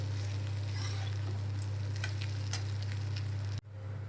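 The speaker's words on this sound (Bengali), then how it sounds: "মাছের মাথাগুলোকে আবার দিয়ে চালটাকে আরও দুই তিন মিনিটের জন্য আমাদের ভেজে নিতে হবে" Fish heads and rice fry together in a pan, a busy sizzle with scattered crackles and stirring scrapes over a constant low electrical hum, cutting off abruptly near the end to a quieter background.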